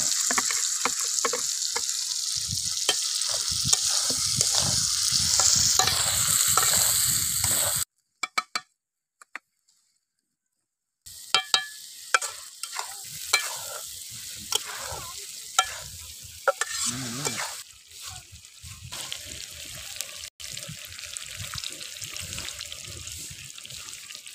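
Quail eggs frying in a pan during outdoor village cooking: a loud, crackling sizzle with stirring, cut by a few seconds of near silence before the hissing resumes with sharp pops.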